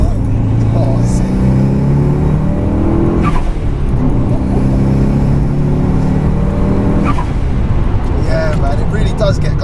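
A 21-year-old Mitsubishi Evo 6 engine pulls hard under acceleration on a country road, a loud steady in-cabin drone rising through the gears with brief dips at shifts, while people talk over it.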